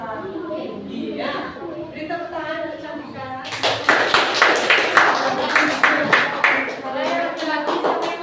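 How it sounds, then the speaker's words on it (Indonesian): Dense clapping from a group starts partway through and continues steadily, following a stretch of talking; the applause is fairly loud and close. "Beri tepuk tangan untuk kecantikan."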